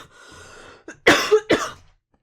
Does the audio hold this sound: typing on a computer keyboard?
no